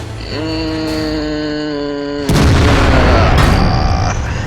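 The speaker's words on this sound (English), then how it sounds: "I'll take a shot from something. I really don't know what, but it bounces off my turret." In World of Tanks, a T-34-3 Chinese premium medium tank drones steadily until a shell bounces off its turret with a sudden loud, crunching metallic impact. A rough roar carries on after the hit.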